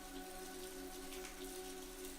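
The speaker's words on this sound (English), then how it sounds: "The sound of raindrops against the window panes created a soothing melody" Raindrops patter steadily against window panes on a rainy evening outside a cozy cottage, a soft continuous hiss with a faint low hum underneath and no voices.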